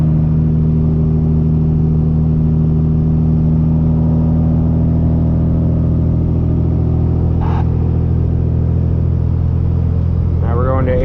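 A custom Peterbilt truck with straight pipes drones at a deep, loud, steady rumble from inside the cab, the engine note holding almost constant as it shifts into 8th direct, with a voice speaking over it.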